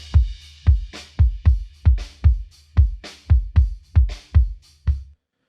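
A programmed drum beat has kick and snare playing together in a steady pattern, with about a dozen punchy hits and bright snare cracks on top, loud and dry with no other sound.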